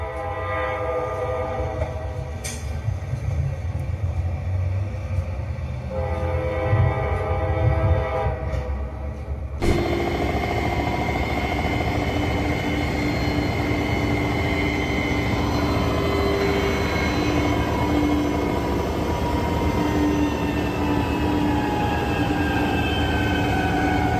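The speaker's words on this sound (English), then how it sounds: "The train didn't have enough traction for the hill, so the wheels basically turned into giant grinders." A train's wheels slip and grind on a hill for lack of traction. A low rumbling engine gives way to a loud, sustained harsh grinding roar with a steady high screech above it, continuous to the end.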